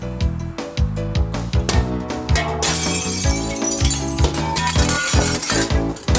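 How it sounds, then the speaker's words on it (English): Glass being knocked out of an old window pane in a 1930s home, a dense run of sharp cracks, clinks and shattering crashes, loud and close, with falling shards tinkling continuously. "when breaking glass out at home, always wear a pair of goggles to protect your eyes and a pair of strong gloves to protect your hands"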